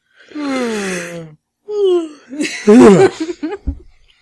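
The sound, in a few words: group yawning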